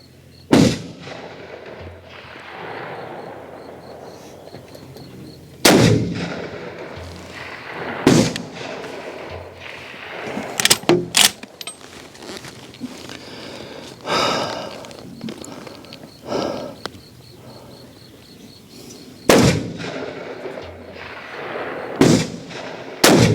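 Swiss K31 Karabiner 31 rifles fire during a 300 m Feldschiessen shooting event in 2023. Sharp, loud shots crack at irregular intervals, some close and others more distant, with quieter range noise and footsteps between them.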